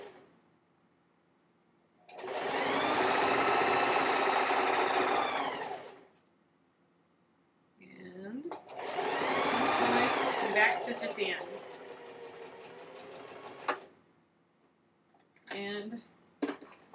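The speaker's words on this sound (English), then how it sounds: "you're just going to run a stitch right along that top edge" A sewing machine stitches along the top edge of a fabric pouch in two loud, steady whirring runs of a few seconds each, separated by pauses, with brief clicks and a voice speaking between runs.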